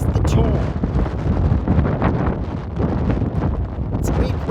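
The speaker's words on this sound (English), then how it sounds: "It's a bit windy." Gusty wind buffets the microphone on top of Glastonbury Tor, a continuous rough rumble with surges and dips lasting several seconds.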